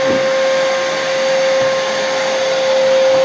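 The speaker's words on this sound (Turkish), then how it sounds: "Buralara da süpürge çektirdi şöyle." A vacuum cleaner being run through the rooms of a home during cleaning, a steady loud motor whine holding an even pitch throughout with no voices.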